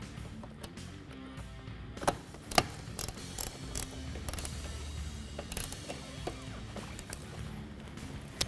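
A ratchet tightens the bow of a one-piece vinyl convertible top with a plastic window on a 1994-era Ford Mustang, making steady mechanical clicking and rattling with occasional sharper knocks at close range.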